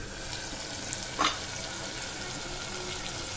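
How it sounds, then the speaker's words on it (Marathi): Whole spices tempering in hot oil for a Marathi dudhi (bottle gourd) dish, a steady soft sizzle throughout with a brief brighter crackle near the start, no voices. "छान मस्त फोडणी बसलेली आहे"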